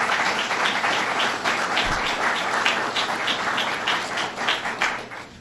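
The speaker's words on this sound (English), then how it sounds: "Let's give him a round of applause." Audience applause at a university ribbon-cutting event, dense steady clapping from many hands sustained for over five seconds at moderate level, with no speech over it.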